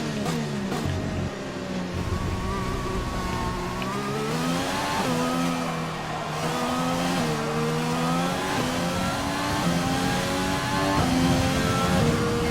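Formula 1 race car engines from the F1 2020 video game at Melbourne, revving loud and continuous with rising and falling pitch as the car accelerates and shifts gears, holding steady throughout without talk.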